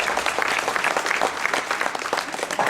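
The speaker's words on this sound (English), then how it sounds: "A big round of applause for the wonderful lady there." An audience at a magic show gives a round of applause: a brisk, continuous burst of many people clapping, fairly loud and close, with no talking on top.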